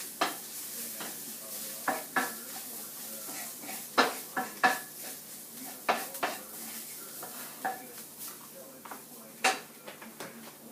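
A flour-and-fat roux cooks in a pan, with a soft steady sizzle under irregular scrapes and taps of a utensil stirring against the pan.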